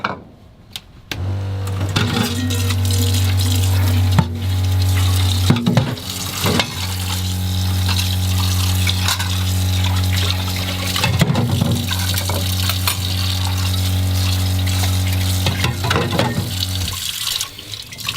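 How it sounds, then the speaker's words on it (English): Tap water runs steadily into a sink in a tiny bus kitchen with a low hum, broken by clinks and splashes of dishes being rinsed, close up and without speech. "I like to give everything a little quick rinse."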